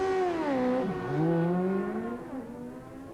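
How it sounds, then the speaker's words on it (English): A 750 Suzuki street motorcycle races at Blyton in 1990, its engine howling loudly as the pitch rises through gears, drops and climbs again while the bike sweeps past. "this is Ray Warburton with his 750 Suzuki, and he's racing our #1 qualifier Stu Bancroft"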